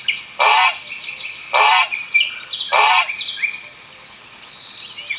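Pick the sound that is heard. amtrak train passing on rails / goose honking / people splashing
goose honking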